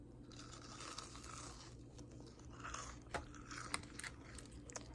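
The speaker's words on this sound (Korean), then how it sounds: "치즈볼 ASMR 한번 해볼게요" Crunchy BHC cheese balls bitten and chewed close to the mic in a quiet ASMR setting, with faint crisp crunches and soft mastication sounds that grow busier toward the end.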